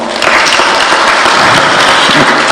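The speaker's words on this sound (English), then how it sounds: "can we just clap for them?" Dense, sustained audience applause at a Kenyan memorial tribute, honoring the event organisers, steady and loud throughout with no pause.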